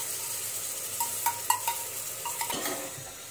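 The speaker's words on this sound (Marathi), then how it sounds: "सोयाबीन परतून घेऊ।" Soybean chunks marinated in yogurt, red chilli powder and turmeric are sautéed in a pan for soya pulao, with a low sizzle under scattered spoon scrapes and clinks against the pan, close up.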